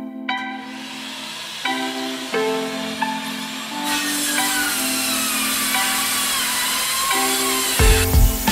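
A Bosch cordless circular saw cuts wood against the parallel fence with a thin Expert for Wood blade, running in a loud whine that shifts pitch as it loads through the cut, then spins down near the end.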